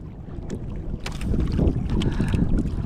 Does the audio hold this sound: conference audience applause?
no